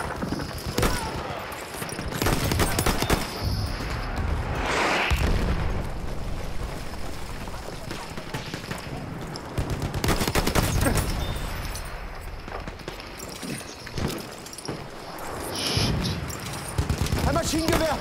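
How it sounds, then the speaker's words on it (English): Machine gun fire from an M1907 in a Verdun Heights battle game, loud bursts of rapid shots and explosions hitting in clusters, with shouted voices mixed into the chaotic battlefield noise. "Ein Maschinengewehr!"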